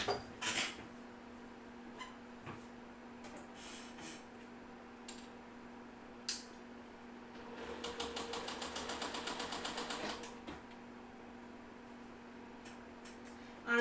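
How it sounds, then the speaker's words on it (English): A sewing machine stitches quilt four-patch pieces, heard as a steady, fast, even run of stitching in the middle of the clip, with a few soft clicks and handling noises around it in a quiet room. "I'm going to sew these two together, sew them together, and then sew the long side"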